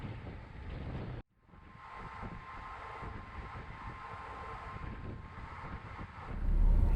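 Wind gusts across the Australian desert, roaring and buffeting the microphone in a steady rumble. A brief dropout comes early, and the wind builds louder toward the end, with no talk.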